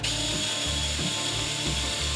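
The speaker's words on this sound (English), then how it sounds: "And drill this one out." A power drill bores a hole in a Pro Taper motorcycle handlebar on a Honda Grom, making a steady, close grinding whir with faint rhythmic scraping pulses as the bit cuts through the metal, and no voices.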